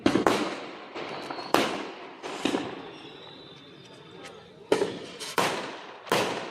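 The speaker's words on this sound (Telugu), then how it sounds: "బాంబులు చూడండి ఎలా పేలుస్తున్నారు" Several sharp firecracker bursts during New Year celebrations go off one after another at irregular intervals, loud and close, with crackling decay between blasts.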